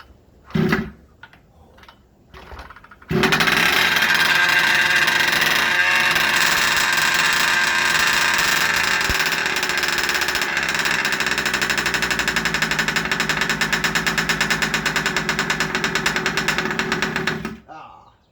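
A rebuilt Rovan 30.5 gas engine on choke catches after a few short pulls and then runs loud and steady, with a rapid rhythmic buzz, up close for about fifteen seconds before cutting off.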